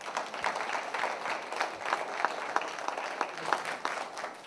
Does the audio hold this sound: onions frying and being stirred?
no